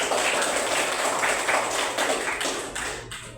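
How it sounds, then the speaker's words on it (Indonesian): A room of students claps together for a classmate during a school lesson, a dense, steady patter of many hands held close and loud for about three seconds before thinning out at the end. "tepuk tangan semuanya"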